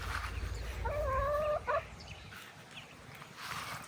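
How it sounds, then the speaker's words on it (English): A rooster gives a short, faint gobbling call out in a yard, a single brief burst of raspy notes over quiet outdoor background noise. "Look how beautiful that rooster is."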